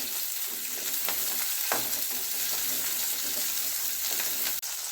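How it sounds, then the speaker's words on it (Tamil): Onions sauté in a pan for a Chettinad kara chutney, making a dense, continuous close sizzle with faint stirring scrapes and one brief clack near the end. "கொஞ்சம் நல்லா வதக்கிக்கிறோம்"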